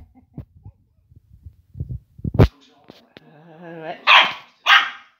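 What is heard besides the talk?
dogs barking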